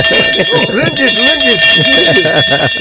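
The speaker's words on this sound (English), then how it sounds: "let me ring the bell" A ringing bell sustains bright, steady metallic tones through the whole stretch while people talk and laugh loudly over it.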